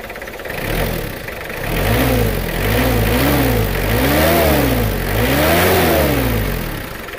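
A Mitsubishi Kuda diesel car engine, freshly rebuilt, runs steadily nearby, its pitch rising and falling as it is revved several times, with no talking.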